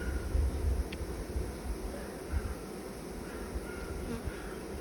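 A newly caught honeybee swarm moves onto hive frames, filling the air with a dense, continuous buzzing hum from many bees, close and steady, with a low rumble underneath.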